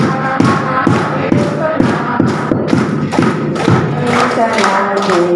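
A group claps along in a steady rhythm to a singalong song during a teachers' curriculum workshop session at a high school, sharp rhythmic claps over sung voices and music.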